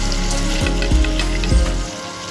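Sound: tomatoes and spices frying in a pan

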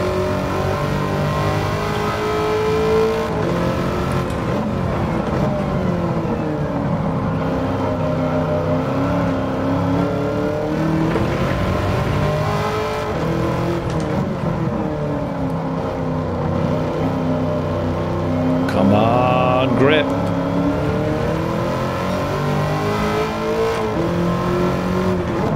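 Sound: 2009 Corvette C6 ZR1 engine racing in Gran Turismo 7 video game

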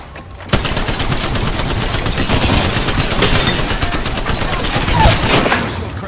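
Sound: gunfire in Apex Legends video game

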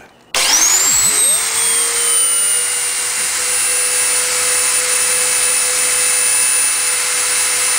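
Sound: drill press drilling

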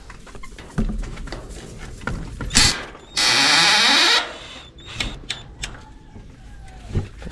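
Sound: removing wood-screwed boards from chicken coop

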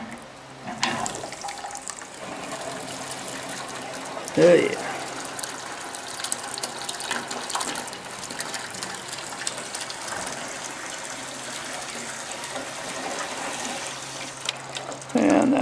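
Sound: hot water running through PEX plumbing lines

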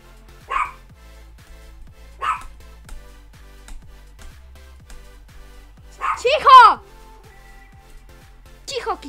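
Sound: dog barking at someone arriving home

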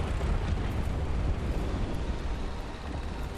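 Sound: 88 gun firing and explosion in the video game Men of War 2

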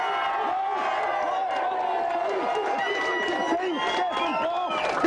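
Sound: studio audience cheering

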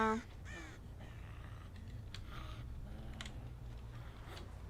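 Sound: crows cawing in the video game Dead by Daylight

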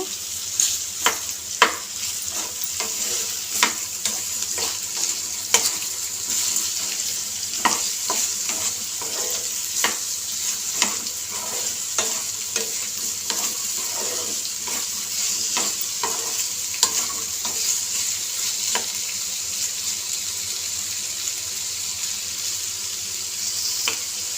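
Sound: okra curry frying and being stirred in a pan

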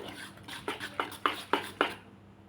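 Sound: mixing ground dal and rice batter with a spoon

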